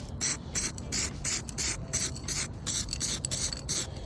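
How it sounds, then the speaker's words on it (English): Repeated bursts of Eastwood aerosol spray on car body panels of a 1967 Mustang, a steady series of hissing sprays in quick rhythm, close and fairly loud with no talking. "oh yeah, man, Eastwood stuff just sprays so good"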